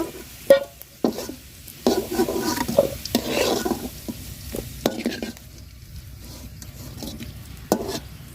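Potatoes frying in a little oil, a low sizzle under frequent scraping and clattering of a spatula stirring the pan, with intermittent knocks.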